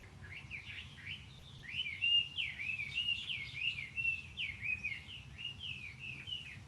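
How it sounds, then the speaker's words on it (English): Myna birds sing a run of bright, varied whistles and chirps, repeated phrases tumbling over one another at moderate distance above a faint low background rumble. "So let's hear the song of the minor birds."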